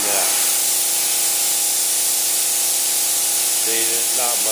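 Steady, loud hiss of a cheap Harbor Freight spray gun misting PartAll mold release, running continuously throughout with a brief tonal shift near the end.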